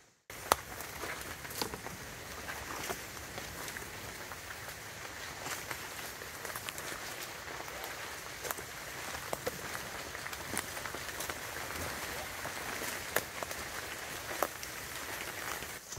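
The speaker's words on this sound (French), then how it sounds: "La pluie s'est calmée." Light rain falls steadily in a Sulawesi rainforest in Tangkoko park, a continuous soft patter of drops on leaves and surfaces with scattered sharper drips throughout, no voices.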